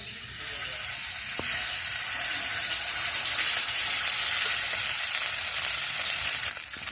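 Masala-coated nang fish hits an oiled tawa, giving a loud, steady, close sizzle that holds for about six seconds before easing off abruptly near the end; no one speaks.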